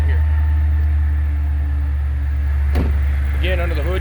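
A 2005 Ford Mustang Saleen S281 with a supercharged 4.6 liter V8 idles with a deep, steady low rumble, close and continuous, while someone speaks briefly near the end and a short knock sounds midway.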